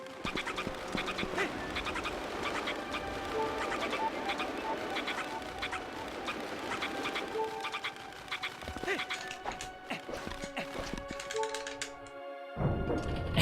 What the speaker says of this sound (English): Angry sky chicken noises